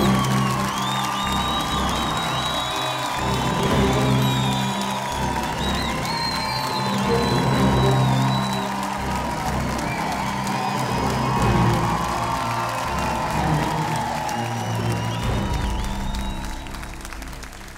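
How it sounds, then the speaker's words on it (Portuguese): A studio audience at The Voice bursts into sustained applause and cheering, with whoops, for contestant Juliana Ignácio. The dense, loud roar of clapping and shouting holds steady for the full stretch, then eases slightly at the very end. "Um aplauso para a Juliana Ignacio!"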